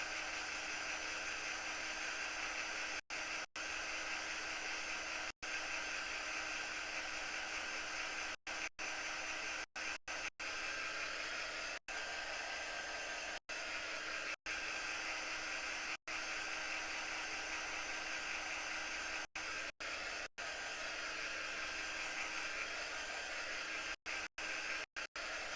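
A hair dryer blows steadily on a freshly stained wood craft project, a continuous close whooshing roar broken by brief cutouts as it is switched or moved, with no talking.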